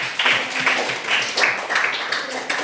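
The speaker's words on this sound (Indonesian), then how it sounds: "Kalau begitu kita tepuk tangan sekali lagi" Classroom applause from students after a group presentation, a dense, steady patter of many hands clapping together for a few seconds without a clear break.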